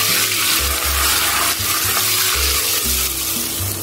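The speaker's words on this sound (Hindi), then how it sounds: "और इसे पकाएंगे टमाटर को सॉफ्ट होने तक।" Three tomatoes with ginger garlic paste sizzle and fry steadily in a pan for biryani, a continuous loud hiss close up, with faint stirring underneath and no talking.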